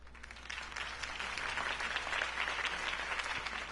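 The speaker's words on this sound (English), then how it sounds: "If only Mr. Wayne, my campaign's largest backer, could have heard that applause" A crowd claps and applauds loudly and continuously at a political campaign rally in the Telltale Batman video game, a dense, sustained wash of clapping.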